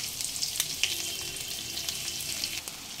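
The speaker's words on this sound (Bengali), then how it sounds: "পেঁয়াজ একটু ভাজা ভাজা হতে দেব।" Chopped onions frying in mustard oil with cumin seeds and a bay leaf, a steady close sizzle broken by a few sharp crackles and light stirring taps.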